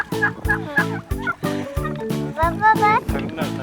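Turkeys on a turkey farm gobble close by in quick repeated bursts, one over another in a busy rhythm. They are loud and alone, with no clear talk.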